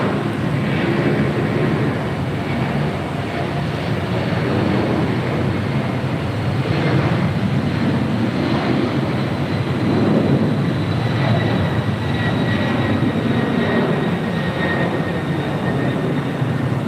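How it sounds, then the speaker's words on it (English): A 32-year-old Delta Boeing 767-300ER rolls down runway 25 right at LAX for takeoff, its jet engines a loud, broad, continuous roar with a thin high whine running through it. "we do have that Delta 767-300ER, 32 years of age, heading to JFK, flight 688, now rolling down 25 right"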